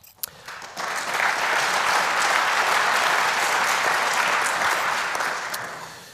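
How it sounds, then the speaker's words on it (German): Applause from a conference audience swells up after a short quiet start into a full, dense clapping that holds steady and then tapers slightly. "Applaus"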